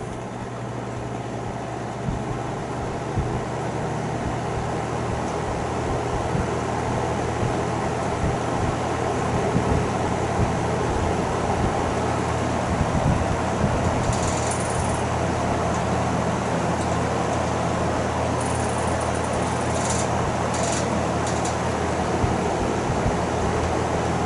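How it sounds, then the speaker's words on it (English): A GE F11T4 window fan runs with a steady, rough whirring drone that holds throughout, with brief faint high scraping sounds from its right fan blade slipping, set on top of a dryer. "That slipping noise you hear is the fan blade on the right side."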